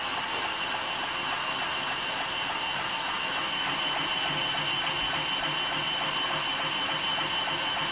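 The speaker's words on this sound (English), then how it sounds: "it is the sound normally of the seam passing over a piece of metal." A belt grinder fitted with a polishing belt runs in a loud, steady whir that holds for the whole stretch, with any seam tick buried in the broadband machine noise.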